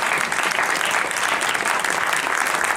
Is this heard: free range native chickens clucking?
no